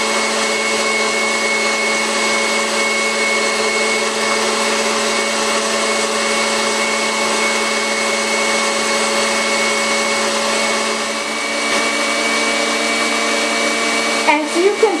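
Egg whites for almond nougat are beaten at high speed, giving a loud, steady, close motor whine that holds evenly for the whole clip, with a brief dip near the end.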